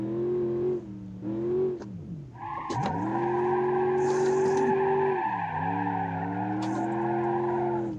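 Tires squeal in long sustained screeches over a steadily droning engine as a car drifts around a rally track in the BeamNG.drive driving game, loud and close with brief dips as the slide changes direction.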